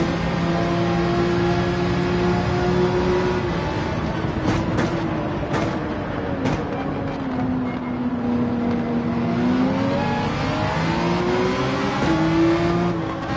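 A Porsche 911 engine drones steadily in Gran Turismo 7 on the Nürburgring, its pitch rising and falling with throttle and gear changes and punctuated by a few short clicks.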